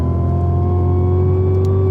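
A race car engine drones loud and steady from on board on a track, holding a strong even note as it pulls through the gears with no pause for a shift.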